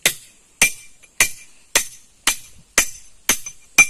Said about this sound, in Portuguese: O martelo é bom, ó.